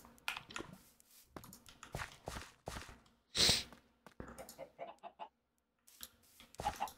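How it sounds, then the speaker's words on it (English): Minecraft chickens clucking in short, scattered bursts with brief pauses, one louder squawk in the middle, alongside faint keyboard clicks from the player. "Come here, chicken."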